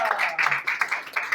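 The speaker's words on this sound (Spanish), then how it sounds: "Denle un fuerte aplauso a nuestro Dios." Applause rises and falls in a church as a congregation claps in praise, a dense run of hand claps with rhythmic bursts, mixed with voices throughout.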